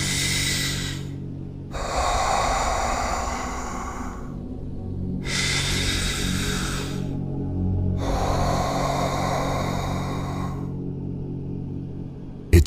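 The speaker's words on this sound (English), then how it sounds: "So, take a deep breath." Slow, deep breathing in a steady cycle of long breaths, each lasting a couple of seconds with brief pauses between, close and fairly loud over a low steady hum.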